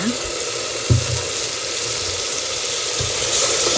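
Egg masala with ginger and garlic fries in a pan with a steady, loud, close hiss, broken by a few soft knocks of stirring.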